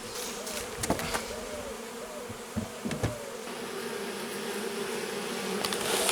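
A wild honeybee swarm buzzing around a hive as foragers bring in pollen: a continuous close drone with individual bees whining past the microphone.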